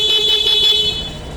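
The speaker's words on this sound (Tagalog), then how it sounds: "Tapos busina." A Suzuki car horn blares in one steady, continuous honk lasting just over a second, loud and close, with a slight waver as it sounds.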